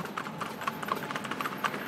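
Horses pulling a tandem clip-clop along at a steady walking rhythm, with crisp, evenly spaced hoofbeats over a continuous outdoor background hiss and no talk.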